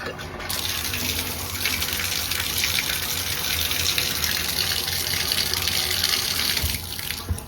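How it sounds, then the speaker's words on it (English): Water runs steadily from a Moen bathroom faucet just fitted with a new cartridge: a continuous loud hiss and splash into the sink that starts abruptly and holds for several seconds with no talk. "turned the water back on, and let's give it a try."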